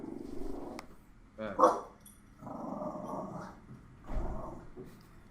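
A dog makes agitated noises in bursts, short growly yelps and rumbling sounds coming and going over a few seconds, fairly close, with people talking nearby in the background.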